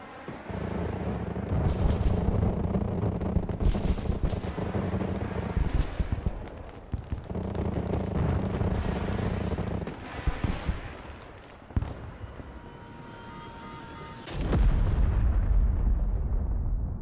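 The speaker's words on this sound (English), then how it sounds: "Cruise missile did half damage." Cruise missile strikes and Arleigh Burke destroyer gunfire in the modern real-time strategy game Broken Arrow: heavy booming explosions in repeated bursts with rumbling tails, loud and continuous, ending in a large blast.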